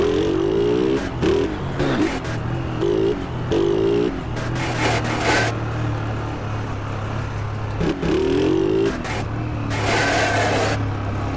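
A Honda CG 150 carbureted motorcycle being ridden, its engine droning steadily with repeated rises and falls in revs, loud and close, with wind rush across the whole run.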